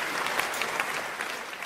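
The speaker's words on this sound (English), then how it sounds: "Great big round of applause for him." A game show's studio audience applauds steadily, a dense wash of many hands clapping at even loudness throughout, with no voices over it.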